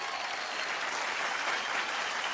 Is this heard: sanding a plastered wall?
no